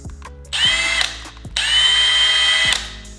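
A Milwaukee 1/2 inch impact wrench runs free on its highest speed setting in two loud, sustained bursts of high-pitched motor whine, about half a second and just over a second long, each with a brief spin-down between.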